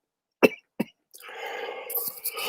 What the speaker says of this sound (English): I don't want to be coughing in y'all's ear